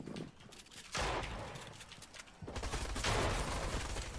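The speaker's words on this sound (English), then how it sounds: "I'm being shot by a whole nother team" Gunfire in a shooter video game, bursts of overlapping shots in two loud waves separated by a brief lull, fairly close and continuous.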